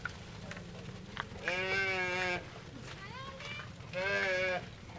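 Sheep and goats in a village in India bleating: two loud, wavering bleats a couple of seconds apart, fairly close, over a low steady background hum with a fainter call between them.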